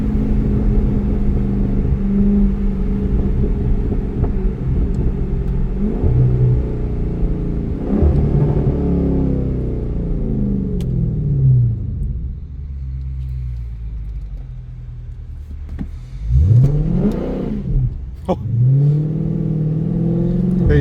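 Dodge Scat Pack car on a slick road with Continental tires, its engine rumbling loud and close as it revs, wheels spinning without grip, with repeated rising surges of throttle near the end.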